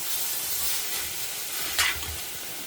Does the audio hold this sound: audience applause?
no